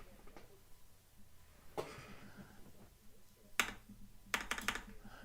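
Scattered clicks of typing on a computer keyboard sound close but soft, coming in a few separate bursts with quiet gaps and faint room noise between them, with no speech.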